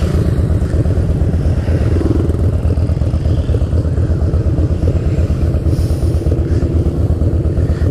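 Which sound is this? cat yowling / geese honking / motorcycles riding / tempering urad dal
motorcycles riding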